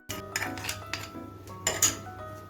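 A spoon clinks and scrapes repeatedly against a bowl while turmeric, ginger and chilli paste are stirred with a little water for a fish curry, giving a steady run of close metallic taps and rubs.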